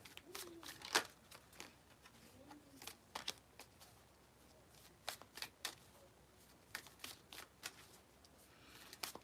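Tarot cards are handled and shuffled during a Gemini card reading, with soft close-up riffles, snaps and slides coming in quick irregular clusters separated by quiet pauses.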